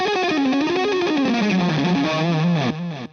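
A loud, heavily distorted electric guitar with humbucker pickups and no compression plays a sustained, gliding line with thick, saturated tone that thins out near the end.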